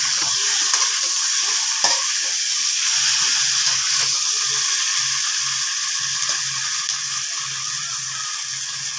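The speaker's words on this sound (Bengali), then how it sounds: "ভালো করে লাল লাল করে কষে নেব, একটু ভাজা হয়ে যাবে" Steady, loud sizzling of food frying in a pan, with occasional scraping and stirring sounds, continuous throughout and no talking.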